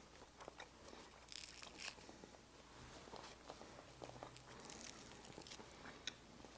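Crisp crunching bites into the crust of a traditional Italian bread, several loud crackly crunches spread unevenly, close and without any talking.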